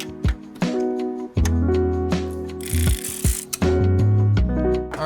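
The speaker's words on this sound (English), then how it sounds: "Now we're just gonna snug these down with our 14 mil wrench." A 14 mm wrench snugging down the fuel injector bolts on a BMW N54 engine, giving repeated close ratcheting clicks in short bursts with brief pauses between strokes.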